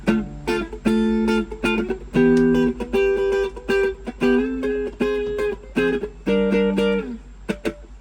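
Clean chords strummed on a Telecaster-style electric guitar using the front pickup, one after another, bright and warm, with a steady rhythm of ringing strums and short pauses between them.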